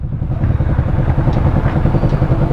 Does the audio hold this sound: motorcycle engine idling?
yes